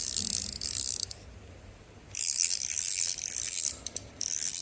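A titanium Megas Showhand Ti fidget toy clicking: bursts of fast, crisp ratcheting clicks at close range, separated by brief quiet gaps, with no talking.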